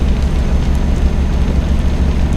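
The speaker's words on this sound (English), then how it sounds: "it's gonna stop raining" Steady rain in the trucking video game Euro Truck Simulator 2, a dense continuous wash of patter with a heavy low rumble underneath, loud and unbroken throughout.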